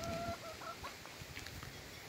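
Chickens clucking at a farm in Thiruvillwamala, a steady backdrop of soft fowl calls with a few clearer bird notes near the start, moderately quiet with farmyard ambience.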